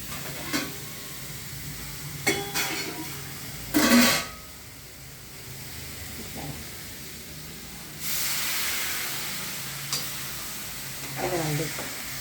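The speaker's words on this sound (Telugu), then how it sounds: "నీరు పోండి." Water poured into a hot cooking pot of curry, with bursts of loud sizzling and hissing steam, short spurts at first and then a longer hiss, amid quieter kitchen clatter.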